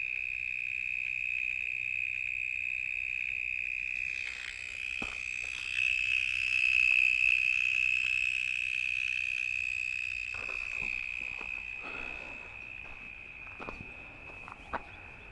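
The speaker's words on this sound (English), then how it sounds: "Where's this noisy cicada?" A loud cicada in the Australian outdoors calls nearby with a steady, piercing drone that runs through the whole stretch, with faint rustles and clicks beneath.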